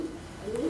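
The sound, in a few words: pigeon cooing in loft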